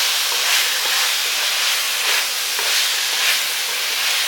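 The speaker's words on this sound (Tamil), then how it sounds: "வெண்டைக்காய் கொஞ்சம் நல்லா வதங்கட்டும்." Cut okra sautéing in a hot pan for a tamarind curry, a steady bright hiss and sizzle with faint stirring swells, close and continuous, with no talk.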